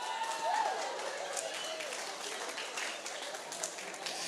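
A church congregation applauding throughout a sermon, a steady wash of many hands clapping at moderate distance without a break.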